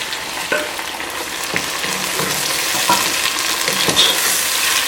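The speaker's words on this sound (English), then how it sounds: "Now I'm going to add the chopped tomatoes." Chopped tomatoes hit frying onions in a pan and sizzle loudly and steadily, with repeated scraping strokes of a stirring spoon close by and no voices.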